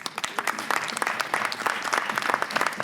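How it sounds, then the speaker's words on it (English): An audience claps steadily and enthusiastically, a dense patter of hands that continues without a break. "Please, once again, a round of applause for John and for Neal."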